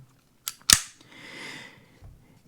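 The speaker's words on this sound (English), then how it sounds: "So you got to drop your mag." A FEG 9x18 pistol has its magazine dropped, giving a couple of sharp metallic clacks close by, then a soft rattle and a faint thud, with no talking.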